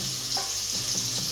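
Onions fry in hot oil with a continuous close sizzle and crackle, plus a light stirring scrape.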